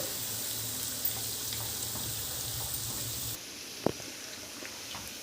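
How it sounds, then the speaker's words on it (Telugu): Chicken pieces sizzling in a pan over a medium flame for a chicken and sweet corn pakodi, a steady hissing fry throughout with a faint clink partway through. "చికెన్ని ఇలాగా మీడియం ఫ్లేమ్లో ఒక 5 నిమిషాల పాటు వేయించుకోవాలి."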